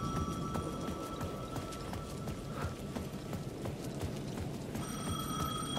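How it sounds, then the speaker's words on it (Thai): Phone booth ringing in the Alan Wake 2 video game, a faint repeated electronic ring heard over a steady noisy game background. "เสียงจากตู้โทรศัพท์นั้นดังอีกแล้ว"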